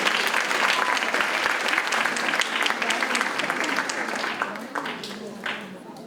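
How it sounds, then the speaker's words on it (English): Loud, sustained audience applause follows an Arangetram classical dance debut performance, with dense clapping filling the hall before gradually thinning and fading toward the end. "Let's give her another round of applause"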